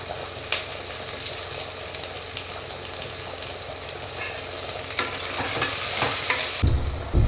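Curry leaves fry in a hot pan with a loud, dense, continuous sizzle and crackle, with occasional stirring throughout.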